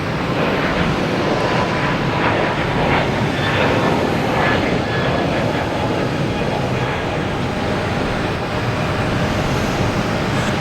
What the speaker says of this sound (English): A321neo, flight 1620